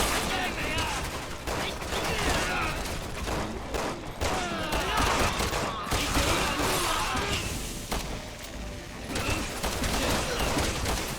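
Dense gunfire from a cover-based firefight in Resident Evil 6, with volleys of shots and crashes running steadily throughout, loud and busy, with some voices mixed in.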